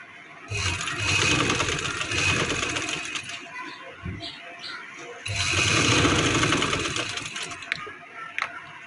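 Sewing machine stitching a zip onto the neck of a printed suit, running in two steady loud bursts of whirring mechanical stitching with a short pause between them.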